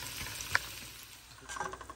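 Onion cooks in a pan with a soft, steady sizzle and a brief sharp clink of a utensil, close and quiet, and no voices.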